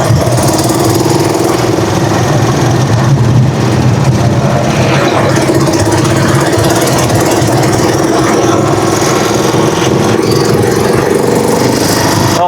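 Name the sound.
vehicle engine idling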